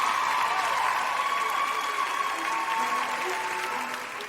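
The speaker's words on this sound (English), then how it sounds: "Keep the applause going, ladies and gentlemen." An awards-ceremony audience at a cybersecurity summit claps steadily, a dense continuous wash of hands that holds strong and then slowly fades toward the end, with faint voices underneath.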